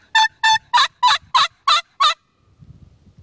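Turkey pot call played outdoors, seven loud, evenly spaced yelping notes in quick succession, followed by soft low wind rumble.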